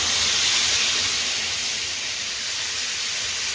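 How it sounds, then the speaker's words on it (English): Stock poured into a hot pan of browned lamb with caramelised ginger, garlic and spices gives a loud, steady broadband sizzle and steamy hiss that holds evenly throughout with no talking. "And finally we can add the stock."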